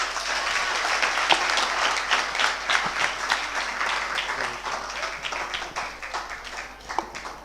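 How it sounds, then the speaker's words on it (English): Audience applause for a motivational guest speaker at a debate championship: a dense, sustained burst of many people clapping, loud and close, gradually thinning slightly toward the end. "please give him a round of applause one more time"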